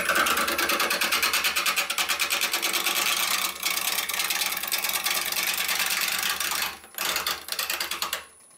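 A wood lathe spins a maple burl bowl at about 550 RPM: a continuous near motor hum with a pulsing mechanical rattle and a dip near the seven-second mark, loud and steady, without talk.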